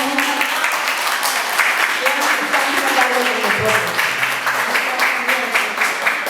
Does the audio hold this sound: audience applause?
yes